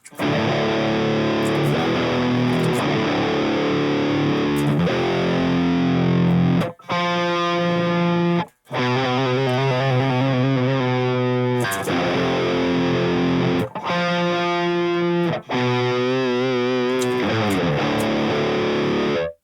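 Electric guitar runs through the Audio Assault Toney amp sim with a Tube Screamer switched on, giving thick distorted riffs and sustained chords, loud and dense with a few brief gaps between phrases.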